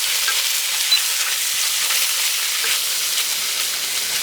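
Meat sizzles loudly and steadily in a hot pan while tongs stir and shift the pieces, a continuous close crackling hiss with small scraping touches.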